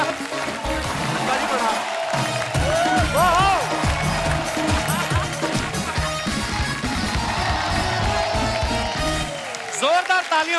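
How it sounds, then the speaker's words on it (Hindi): A studio audience at a comedy talk show claps and cheers in welcome for actor Anupam Kher, loud sustained applause with voices and lively music mixed in. "जोरदार तालियां हो जाए अनुपम सर के लिए।"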